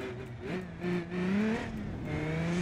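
Car with a jet thruster running continuously in BeamNG.drive, a steady droning roar with rising and falling engine tones, moderately loud with no talk.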